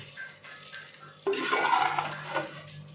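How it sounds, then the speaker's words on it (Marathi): A lid goes onto a cooking pot of mullet fish curry with a sudden clatter of metal, followed by a brief rattle and soft kitchen clinks, fairly faint with no talking. "आता आपण त्याच्यावर झाकण देऊया म्हणजे ते शिजेल"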